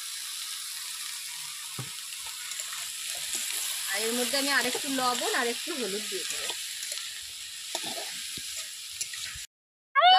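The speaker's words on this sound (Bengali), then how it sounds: "বেগুন দিয়ে পেঁয়াজ দিয়ে একবারেই ভাজা ভাজা হয়ে যাবে।" Eggplant and onion fry together in a pan, a soft steady sizzle with occasional stirring scrapes, while someone talks over it and the sound cuts off briefly near the end.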